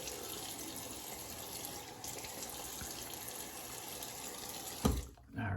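Tap water runs steadily into a bathroom sink as a face is wetted before shaving, a continuous hiss that breaks into a brief splash and gurgle near the end.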